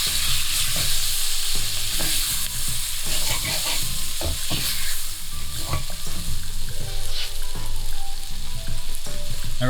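Curry powder being stirred into a sizzling chickpea curry in a frying pan, with steady loud frying hiss throughout and repeated scraping, clattering spoon strokes against the pan, no voices.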